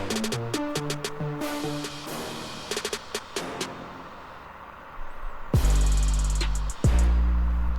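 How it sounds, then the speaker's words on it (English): Trap beat section cut to build tension: a melodic, arpeggiated part thins out and drops to near quiet, then heavy low booms return with bright ticking hits on top. "Then there's this sort of cut to build up tension"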